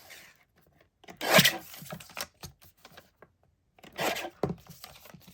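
Card stock from recycled greeting cards being trimmed produces close, dry rasping cuts in two main bursts with scattered small scrapes and rustles between them, with no talking.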